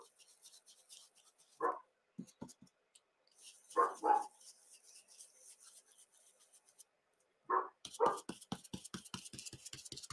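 Indoors, dogs bark in short sharp bursts, reacting to an ink pad being tapped during a crafting demo. Quick, fairly quiet clicks follow, with more barks and whimpers breaking through near the end.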